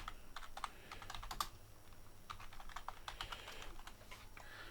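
Quiet, rapid keystrokes on a computer keyboard patter in irregular clusters throughout, close and soft over a faint background hum.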